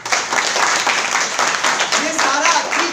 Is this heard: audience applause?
yes